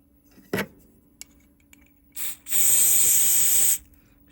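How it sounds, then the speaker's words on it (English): An aerosol can sprays cleaner onto the buttons of a faulty Game Boy Color: a couple of short clicks and a brief puff, then a sustained loud hiss lasting over a second. "spray a bit in there"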